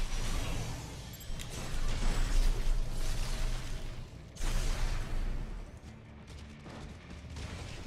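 Explosions and combat noise from the action game Metal Gear Rising: Revengeance, loud dense crashes and booms with a sharp break midway, then continuing bursts and rumble at steady high level, no talking.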